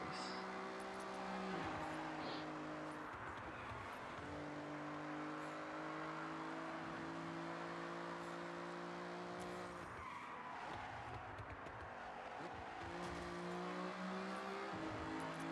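Car in Forza Horizon driving hard, steady engine drone climbing and dropping with gear shifts, tires squealing and skidding throughout, up close and fairly loud, with someone talking over it.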